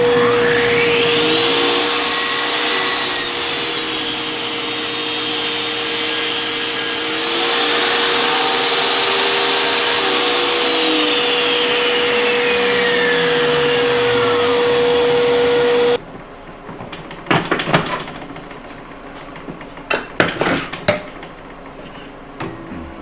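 A table saw cuts a taper off a board with a loud, steady motor hum and cutting whine that holds for about sixteen seconds. It then cuts off abruptly, followed by scattered knocks and clatter nearby.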